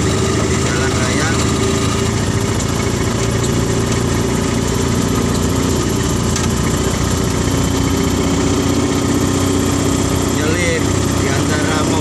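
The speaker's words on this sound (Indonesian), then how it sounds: "ini adalah praktek langsung mobil mesin motor di jalan raya" A small car fitted with a motorcycle engine runs steadily on a public road, its mid-pitched engine drone continuous and fairly loud throughout with road and wind noise mixed in.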